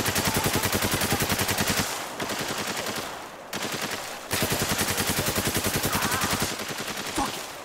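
Rapid automatic rifle fire in the war shooter game Spec Ops The Line, loud sustained bursts of evenly spaced shots with brief pauses between volleys.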